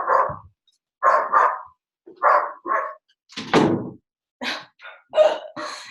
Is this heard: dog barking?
yes